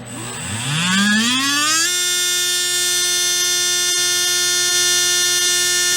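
A REDS VX4 17.5T brushless RC motor spins up on an RPM test, its whine rising quickly in pitch over the first two seconds and then holding a steady, loud, high electric buzz.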